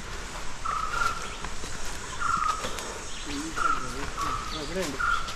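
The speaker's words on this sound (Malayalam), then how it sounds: "നമ്മൾ നഗരങ്ങളിലൊന്നും കേൾക്കാത്ത ടൈപ്പ് കിളികളുടെ സൗണ്ട് ഇവിടെ ധാരാളം കേട്ടിട്ടാണ്." Several forest birds call intermittently, giving short chirps and coos at moderate distance over a steady insect and cricket drone, with no talk.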